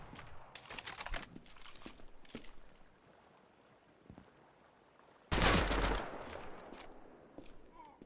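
Video game gunfire comes in scattered bursts of shots with quiet gaps between them, and a loud, heavy blast rings out partway through. A voice speaks faintly at times.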